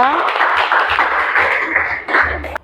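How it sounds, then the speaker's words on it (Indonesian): Classroom applause for a presenting group, loud, scattered clapping from a small group of students, with irregular claps throughout. "Aplaus untuk kelompok 2."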